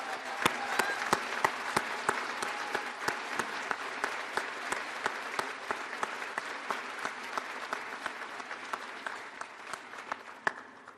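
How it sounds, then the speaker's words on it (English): At a 2021 Mooresville High School graduation ceremony, a large audience gives sustained applause for members of the armed forces, with sharp individual claps standing out across eleven seconds as the sound slowly tapers off. "Please join me in giving these amazing men and women a round of applause."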